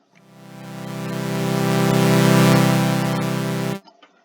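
A sustained synthesizer pad made in Vital swells in slowly, brightening and shifting in tone as it evolves, then cuts off abruptly near the end, leaving faint residual blips.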